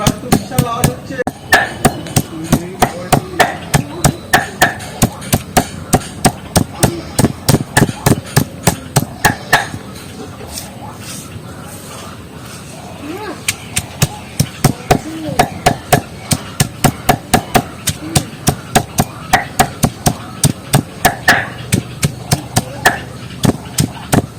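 Ingredients for a homemade hair-loss remedy being pounded and crushed by hand, a steady run of sharp, loud thuds striking over and over in quick rhythm, with voices faintly behind.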